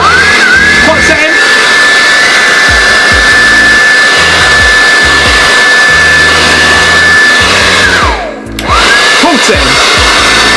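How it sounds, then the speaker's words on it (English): A loud hair dryer on its hot setting, used to style a beard, blows steadily with a high whine, briefly cutting out near the end before starting again, while someone talks over it. "grab your hairbrush, grab your hairdryer."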